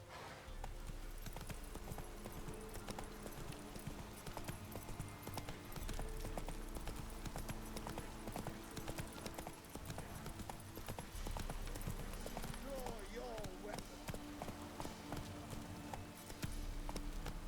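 Horse hooves gallop in a steady, rapid clip-clop rhythm for the full stretch in the video game The Witcher 3, close and continuous, with game music underneath.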